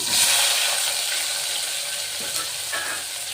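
Chopped onions fry in a pan for masala tomato bath, a steady close broadband sizzle and hiss throughout with faint stirring and no talk.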